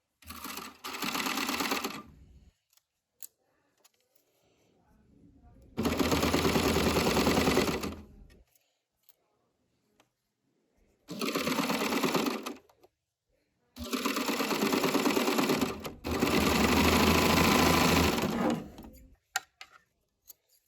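A serger sewing machine stitches elastic flat onto fabric, running in four loud, steady bursts of rapid mechanical whirring separated by silent pauses, close up with no talking.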